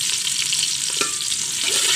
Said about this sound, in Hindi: अब मैंने तड़का लगाना है इसको अच्छे से, मैंने फ्राई कर लिया, मैं तड़का लगा रही हूँ।